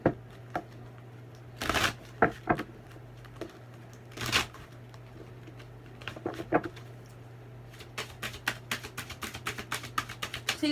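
Someone shuffles a deck of Cosmic Oracle cards close up, making quick riffling bursts and soft slaps in an uneven rhythm over a low steady hum, with no talking.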